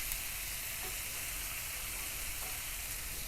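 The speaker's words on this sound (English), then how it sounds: "I usually just get them going in here a little bit, kind of break them onions up a tad bit" Onions sizzle in olive oil in a skillet on a Kamado Joe ceramic grill, cooking for beef fajitas; a steady, close, continuous frying hiss with no talk over it.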